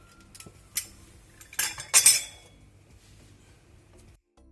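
Knife cutting away excess puff pastry edges for a cream and fruit tart, a few sharp scrapes and clinks of the blade on the board, close and clear with no talk.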